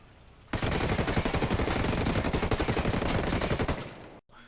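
Sustained automatic gunfire from a TAR-21 or M16 rifle in the shooter game Ghost War, a rapid unbroken burst lasting about four seconds, loud and close, then cutting off abruptly.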